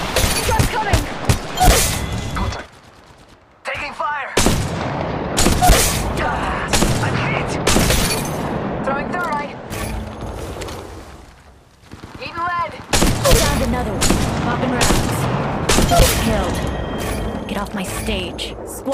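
Rapid bursts of gunfire and booming shots fill a squad battle in Apex Legends Mobile, with dense volleys broken by short pauses. Game voice lines and callouts are heard amid the shooting.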